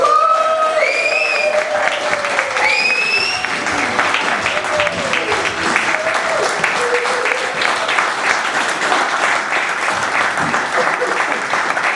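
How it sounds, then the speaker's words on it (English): Comedy club audience cheering and clapping for a stand-up act, dense sustained applause with whoops and shouts throughout, loud and close, with a compere's voice calling over it. "we need lots of cheering and clapping for your first act of the evening, everybody. Mr. Dave Pollard!"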